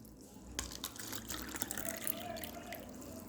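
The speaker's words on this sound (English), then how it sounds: "Now I am going to pour water." Water poured from a container into an empty drinking glass, a quiet continuous trickle and splash with a faint rising fill tone lasting a few seconds, close by in a room.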